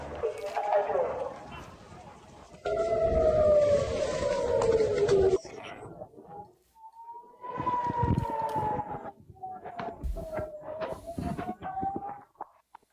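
A wailing siren rises and falls in long sweeping tones, loud and sustained, with bursts of broadband noise and people talking around it.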